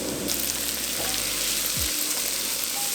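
Onion softening in melted butter in a pan gives a steady, close, even sizzle with a faint scrape or two and no voices.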